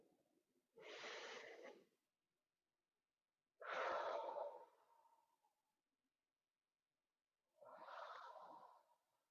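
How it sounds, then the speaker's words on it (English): During a voice-training breathing exercise, three separate deep breaths are drawn in close to the microphone. Each lasts about a second and is breathy and fairly soft, with clear silences between them and no speech. "So we're here, we're going to inhale."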